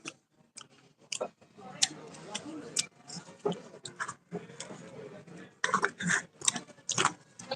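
Chewing nuts, with close, crisp crunches and bites arriving in irregular bursts, loud and near, with brief pauses between mouthfuls and occasional murmured sounds.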